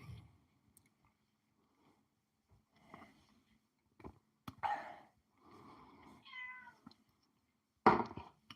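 A house cat meows several times in short, separate calls, fairly close and clear against a quiet room, pleading to be let outside.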